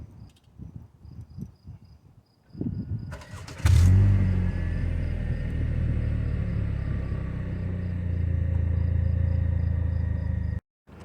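A 2019 Chevrolet Impala LT with a 2.5L engine starts by remote start and settles into a steady, close idle rumble after faint clicks, heard alone.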